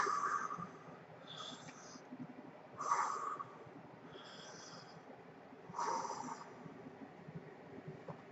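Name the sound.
voice imitating heavy breathing from a film's credits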